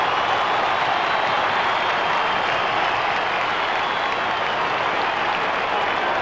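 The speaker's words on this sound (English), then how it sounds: "For the first time in the last quarter, there's a mighty roar" Football stadium crowd at a Kangaroos versus Richmond match, round 3 of 2000, erupting in a sustained roar and applause after a goal, a dense, loud wash of cheering that holds steady throughout.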